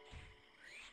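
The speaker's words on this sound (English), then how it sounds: "Every time you enter the place in and out, it always gives a frog sound." A single short frog croak from the Avatar: The Burning Earth video game, a quiet and slightly rising call heard alone.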